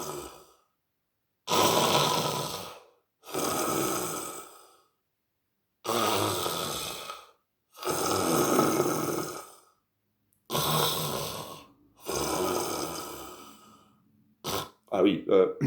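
A storyteller imitates a wolf snoring with a voice: long, rasping snore-like bursts repeated about six times with pauses between, growing rougher and more rapid near the end, loud and close.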